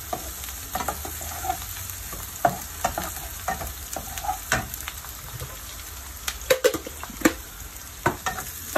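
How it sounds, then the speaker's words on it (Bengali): Bay leaf and onion fry in oil in a pan for a fish curry, giving a continuous close sizzle. Sharp scrapes and taps from a spatula stirring break in irregularly, with no talk. "এখন তেজপাতা আর পেঁয়াজ একটু ভেজে নিব"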